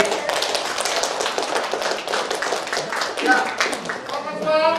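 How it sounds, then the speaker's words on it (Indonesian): Audience of frontline animal health workers clapping hands together at the start of an evening training session, a dense steady patter of many claps with some voices mixed in. "Mari kita awali hari ini dengan tepuk tangan"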